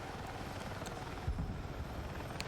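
Helicopter in the video game Battlefield 6, a low rhythmic rotor chop that stays steady and fairly quiet throughout with no talk over it.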